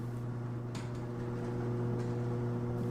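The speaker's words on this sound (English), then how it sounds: "The garage door going up." A steady mechanical whirr and hum of a garage door rising, used as a sound effect in an old-time radio detective drama, with a few faint clicks over the continuous drone.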